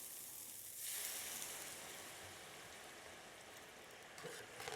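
Marsala wine poured into a hot pan of cooked-down mushrooms for chicken marsala, a loud, dense hissing sizzle that surges at first and then holds steady throughout.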